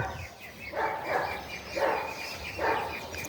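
A dog barks three times at a moderate distance, evenly spaced about a second apart, each bark slightly muffled over a quiet outdoor background.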